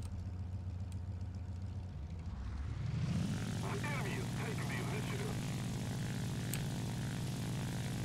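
The droning engine of an XP-55 Ascender propeller fighter in War Thunder runs steadily, then swells louder and rougher as the throttle opens, with the player talking over it.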